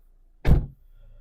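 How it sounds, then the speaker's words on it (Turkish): A single solid thunk as a Renault Fluence 1.5 dCi sedan's door is shut nearby, one short, fairly loud impact against a quiet background. "İstersen kapat hele sen de kapıyı."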